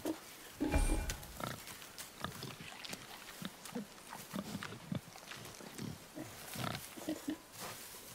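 A wild boar in the God of War video game grunts and snorts repeatedly, close and fairly loud, in irregular rough bursts with short pauses between them.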